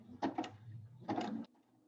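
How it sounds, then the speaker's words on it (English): Sewing machine stitching a zigzag on a throw pillow, two short rattling bursts of rapid stitching separated by a brief pause, fairly quiet and close. "I have my machine set to a zigzag stitch"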